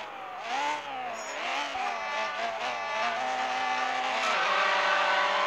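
A race car engine in a racing video game revs up in rising sweeps, with quick gear shifts dropping the pitch before it climbs again, loud and steady throughout.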